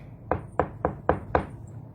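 Five firm knocks on a wooden door in a steady, evenly spaced rhythm, close and hollow-sounding, with no voices over them.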